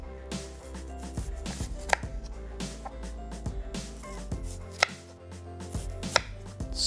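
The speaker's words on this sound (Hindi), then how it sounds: "प्याज गोल गोल रिंग हमने काटने हैं" Knife chopping an onion into round rings on a board, a steady run of sharp, close cuts with a few louder knocks, over faint background music.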